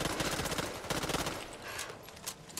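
Rapid automatic gunfire in the zombie shooter game Back 4 Blood rattles out in dense, fast bursts, loud at first and then thinning into scattered lighter shots toward the end.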